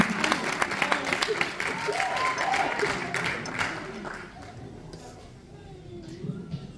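Audience applause at a live charity gala in Albacete, Spain, greeting dancers from a Broadway dance school; steady crowd clapping with voices and music mixed in, thinning toward the end.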